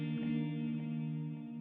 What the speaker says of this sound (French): Mais présentement, je l'ai ajusté avec un reverb et delay.